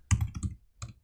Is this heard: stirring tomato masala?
no